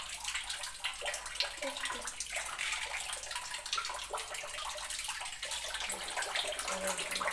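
Hands being washed under running tap water, a steady close splashing rush with small irregular drips, heard alone.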